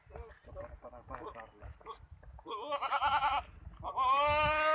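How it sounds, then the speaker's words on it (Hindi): Castrated male goats at a goat farm bleat loudly and repeatedly in the second half, nearby, over someone talking in the first part and a faint background of other livestock. "ये देखो खस्सी बकरा ठीक है"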